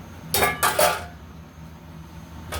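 Lid placed on a pot of biryani, a few close metallic clanks of the cover and pot, with a faint clink afterward and no talking.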